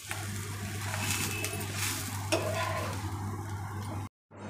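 An onion dosa frying on a hot pan, with a soft, steady sizzle, faint scraping or ticking touches and a low electrical hum underneath; it cuts off abruptly near the end.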